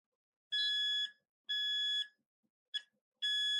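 A multimeter in continuity mode, used to probe contacts on a Lazarustorm board for an Amiga A500, gives three steady electronic beeps and one short blip, loud and close, with no talking.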